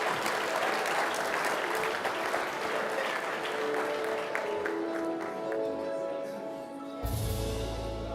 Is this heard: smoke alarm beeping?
no